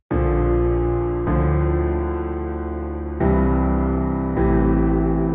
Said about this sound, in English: I layered this piano with a bass that I made in Serum.